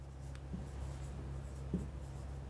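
Marker or chalk writing on a board during a maths lesson, faint squeaky strokes over a steady low room hum, with a couple of slightly louder taps or strokes.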